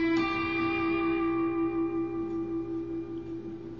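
Electric guitar double-stop slide with vibrato: two notes struck together ring out, wavering gently as they sustain and slowly fade, with reverb and slight distortion, alone.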